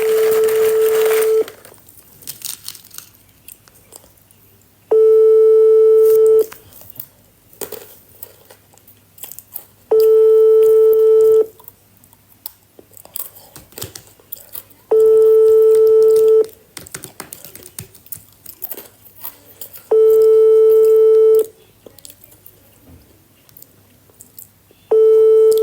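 An unanswered telephone rings in a steady pattern, five loud electronic ring bursts about five seconds apart with quiet gaps between them, sounding close and clear.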